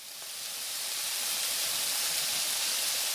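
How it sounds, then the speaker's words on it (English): Corn pieces in a stir fry frying in a pan, giving a close, steady, broadband sizzling hiss that swells slightly and then holds evenly. "Okay, so the stir fry is on."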